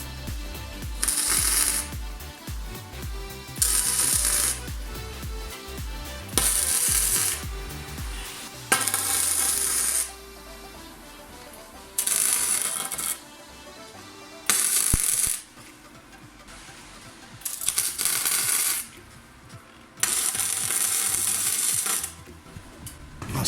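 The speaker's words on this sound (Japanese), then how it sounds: "V 字部分と足を仮溶接します" Tack welding a V-shaped steel part to the legs of a dining table: about eight bursts of harsh crackling arc, each lasting one to two seconds, separated by short quiet gaps with faint handling clatter, fairly loud and close.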